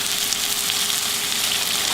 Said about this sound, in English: And then we're going to pour it into the skillet.